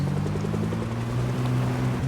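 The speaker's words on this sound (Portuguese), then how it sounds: "Helicóptero, acho que é o evento mais chato desse jogo" A helicopter in the zombie survival game Project Zomboid drones steadily overhead, a continuous rotor thrum and engine hum holding at constant loudness, with no talking.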